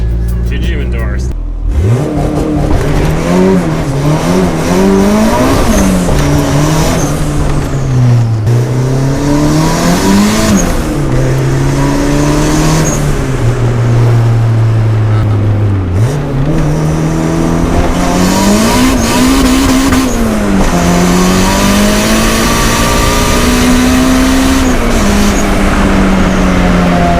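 A car engine revs hard and continuously with a slipping clutch, its pitch repeatedly climbing and sagging under load for nearly half a minute, loud and close.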